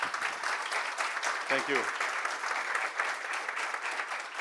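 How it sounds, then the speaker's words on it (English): Audience applause at a literature festival, a continuous wash of clapping throughout, with a brief spoken voice breaking through near the middle. "You are clapping for the armed forces, not for me."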